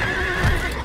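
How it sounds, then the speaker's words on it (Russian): A horse in the Assassin's Creed video game gives a short, loud neigh, a quick whinny heard up close alongside a soft clop of hooves. "Лошадка!"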